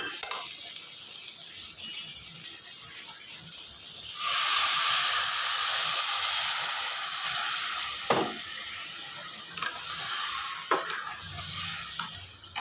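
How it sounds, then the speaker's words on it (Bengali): Water poured onto fried rice in a pot for bhuna khichuri sets off a loud, sudden burst of hissing steam that runs for several seconds before settling into a softer sizzle with occasional stirring clinks. "এখানে পরিমাণ মতন পানি দিয়ে দিব। ভাজা হয়ে গেছে চালটা।"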